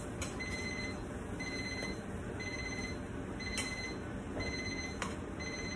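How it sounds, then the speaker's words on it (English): A kitchen timer beeps in short, evenly spaced electronic tones while bagels are being made, the beeps clear against a faint background hiss with no talk. "You're gonna hear a beep, and so now you just simply flip them over."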